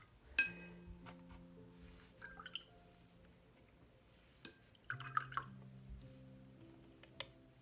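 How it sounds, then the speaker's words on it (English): A paintbrush is swished and tapped in small pots of water between watercolor paints, giving faint, sparse clinks, drips and soft splashes close by in a quiet room, with long ringing tones from the containers. "I put a little bit of water in each one of the color and then I rinse my brush."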